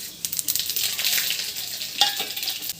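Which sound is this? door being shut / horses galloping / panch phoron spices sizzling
panch phoron spices sizzling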